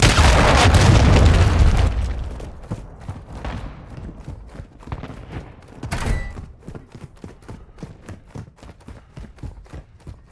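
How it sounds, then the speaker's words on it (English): Cruise missile strike in Call of Duty Modern Warfare 2 erupts as a loud, rumbling explosion that fades into a long tail of scattered pops and crackles, with a second smaller blast midway. "Hostiles launched a cruise missile."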